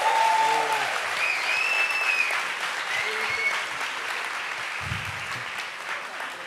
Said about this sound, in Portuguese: Uma salva de palmas para o Rico.